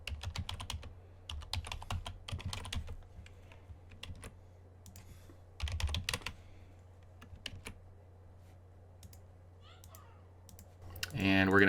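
Computer keyboard typing in irregular bursts of clicks, fairly close, with a person talking over parts of it.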